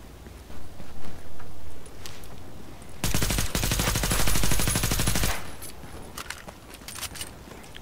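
A burst of rapid automatic gunfire from The Division video game rattles loudly for a couple of seconds, preceded and followed by quieter game noises and soft thumps.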